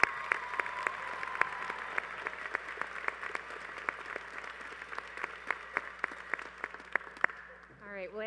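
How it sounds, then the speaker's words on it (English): Sustained applause from a commencement ceremony audience at SUNY Broome, many hands clapping steadily in a large hall for about seven seconds, then fading as a voice begins speaking. "Another round of applause for Juan."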